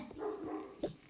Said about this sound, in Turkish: Ya dışarıdan köpek ses geliyor.